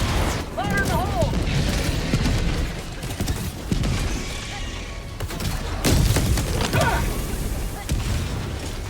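Booming blasts and a rolling fusillade in a video game minefield, with a loud detonation cluster near the start and further thuds through the clip, all under steady speech.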